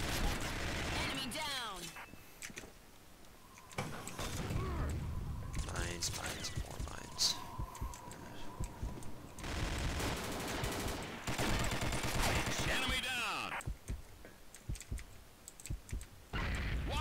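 Rapid bursts of submachine gun fire in the online shooter Combat Arms crackle repeatedly across the stretch, mixed with keyboard and mouse clicking, with someone talking over much of it.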